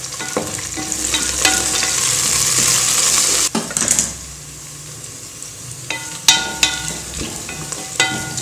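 Onions sautéing in a pan for South Indian vegetable pulao, a bright steady sizzle with scraping stirs that suddenly quiets after a clatter, then continues softer with occasional spoon knocks.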